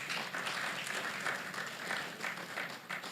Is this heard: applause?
yes